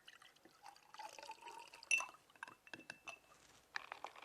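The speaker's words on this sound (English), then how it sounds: "using a ladle, we can pour the citrus punch" Citrus punch is ladled into glasses, with faint liquid trickles and pours broken up by light clinks of glass, quiet and close.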